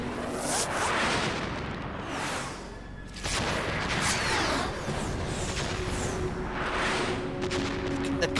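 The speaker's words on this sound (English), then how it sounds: "Yeah, they're really tiny explosions." Rumbling blasts and bursts roll through a busy soundscape in the video game Metal Gear Solid 2: Sons of Liberty, steady and loud, with whooshing debris and a couple of sharper hits.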